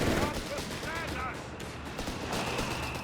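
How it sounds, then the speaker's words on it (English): Battlefield gunfire and mortar blasts in the real-time strategy game Company of Heroes 3, rapid crackling shots and thumping impacts overlapping in a dense fusillade, with a commentator speaking over the combat. "mortar fire almost decapitates one of the Starstorm there"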